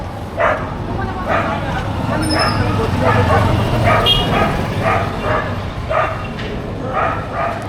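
Dogs barking back and forth at each other on a Cairo street, repeated sharp barks and yips at mid distance over a low rumble of passing traffic, with a voice speaking briefly.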